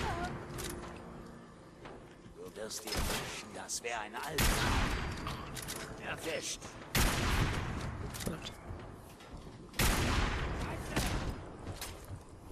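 Gunfire in the video game Fallout 4 during a raider battle at Quincy: several heavy bursts and blasts of shooting, loud and close, interspersed with rattling shots and clatter, while someone talks intermittently underneath.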